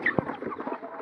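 Brief clucking from farm chickens, a short burst of fowl calls with one sharper low cluck, close and moderately loud with no talking.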